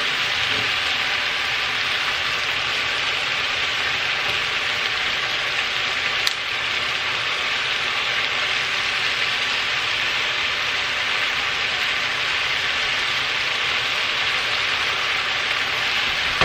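Vegetables seasoned with salt and pepper fry in a stew pot for a beef stew, a steady even sizzle and crackle holding at moderate volume throughout, with no talking.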